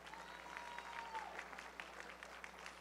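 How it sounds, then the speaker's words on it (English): Audience applause at a powerlifting national championship, honouring a new women's committee chair; fairly faint, steady clapping from a crowd lasting a few seconds with no voices over it. "Please give a round of applause for her."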